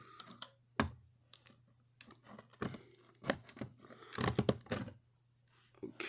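Cutting open a wrapped gift package indoors, scattered crisp snips, crinkles and tearing of packaging in short irregular bursts over a faint steady hum, fairly close and quiet.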